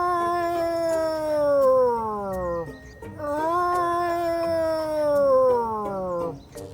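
A voice mimics a Neovenator dinosaur call with two long, howling, descending cries separated by a short break, loud and close, with no other sounds.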